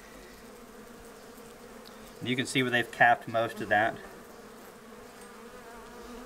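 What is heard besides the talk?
Carniolan honey bees buzzing at the hive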